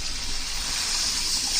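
Water pours steadily into a cooking pan while shavige bath (vermicelli) is being made, a continuous soft gushing splash with no break.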